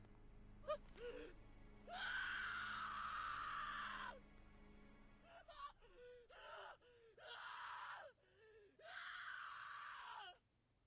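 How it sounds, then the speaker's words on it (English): Piercing screams and gasps from the horror video game Corpse Party, a long strained cry followed by several shorter shrieks in quick succession, loud and up front with no talk over them. "that's some good screaming"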